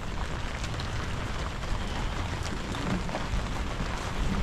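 Steady, fairly loud rainfall at a farm during planting time, a continuous dense patter with no voices over it.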